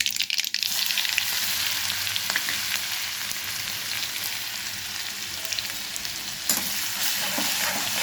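Garlic chili paste hits hot oil already holding cumin and mustard seeds, a loud, continuous close sizzle with brief crackling bursts and occasional spoon scrapes, no voices.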